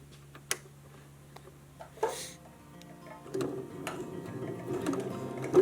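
A sewing machine stitches around a felt needle book, running quietly with a soft mechanical whir that builds in the second half, with a few isolated clicks and knocks before it.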